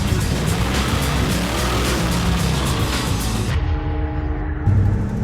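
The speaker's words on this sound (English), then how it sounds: "this is Maggie, my 1969 Plymouth Barracuda 360 engine, Edelbrock carburetor" A 1969 Plymouth Barracuda with a 360 engine and an Edelbrock carburetor roars loudly and close at first, then settles into a lower, steadier rumble with a brief thump near the end.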